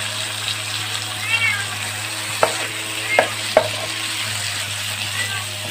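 Pumpkin and a cracked egg are stir-fried in a pan, with a steady close sizzle broken by a few sharp taps of the utensil against the pan.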